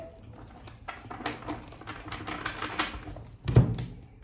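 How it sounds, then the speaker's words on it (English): Crisp rapid riffling of a large tarot deck being shuffled, a soft flurry of papery clicks with a louder snap near the end, close and quiet. "I'm just going to give it a few shuffles"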